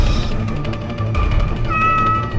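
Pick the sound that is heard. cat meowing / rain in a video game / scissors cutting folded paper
cat meowing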